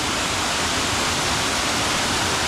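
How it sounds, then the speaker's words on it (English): The waterfall on Alum Hollow Trail near Huntsville, Alabama roars as a steady, loud, broadband rush of falling water, continuous and unbroken. "And back to the waterfall."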